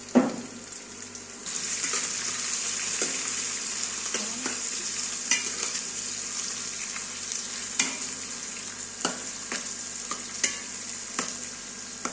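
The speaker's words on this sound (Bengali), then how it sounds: "কাঁচামরিচ আর পেঁয়াজটাকে একটু ভেজে নেব" Chopped green chilies and onion frying in a pan, with a steady bright sizzle throughout and occasional clinks and scrapes of a stirring spoon, close and without talk.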